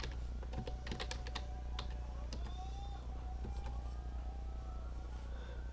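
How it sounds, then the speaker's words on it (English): Keys on a computer keyboard clack in quick, irregular bursts of crisp clicks, close and moderately loud, over a low steady hum with faint distant sirens in the background; no speech. "now let's type in uploaded"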